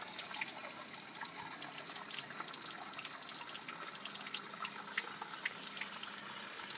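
Pond filter return water trickling into a goldfish pond outdoors, a soft continuous splashing and dribbling wash holding steady throughout with no voices.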